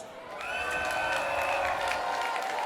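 An audience at a carnival association's finale show applauds steadily in a hall, a soft continuous wash of clapping that swells in and holds, with a faint tone running over it.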